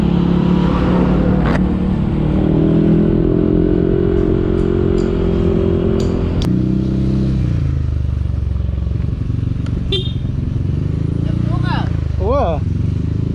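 A motorcycle ride heard up close, a loud steady engine drone with wind rumble and shifting engine pitch, occasional clatter and revving, with speech over it near the end.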